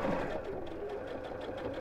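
A sewing machine runs steadily with a fast, even mechanical whir and rattle, close and continuous throughout.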